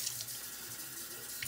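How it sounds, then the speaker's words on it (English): Tap water runs into a bottle holding leftover cheap barbecue sauce, a soft, steady splashing stream that is fairly quiet and continuous for the brief moment, with no talking. "Add water"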